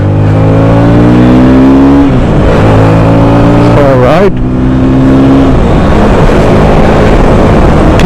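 KTM Duke 160 motorcycle engine revving loud and close while riding, pitch rising through the gears with a dip around a shift midway, a rider's brief voice over the roar.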